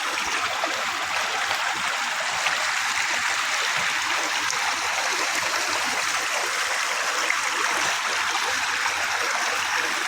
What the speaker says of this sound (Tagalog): Dalawa ang ilog dito.